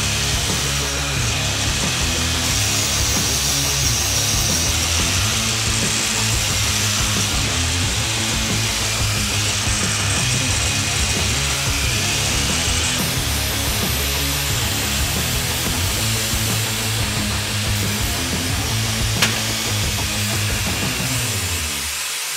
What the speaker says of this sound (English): The only thing required now is a little 120 grit grind around the cap there and then some spinny Scotch-Brite